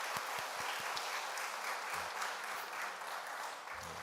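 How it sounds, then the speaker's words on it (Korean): A church congregation in a Sunday service claps to welcome an engaged couple, a dense, steady wash of applause from many hands filling the room throughout. "박수로 환영해 주겠습니다"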